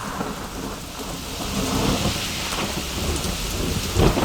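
Heavy rain pours down steadily with a dense, hissing roar, and low rumbling thunder runs beneath it throughout.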